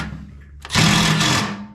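A power drill runs while work is done on a 1969 GM truck, giving a quiet lead-in and then a sudden loud, close, whirring burst that holds for about a second before easing off.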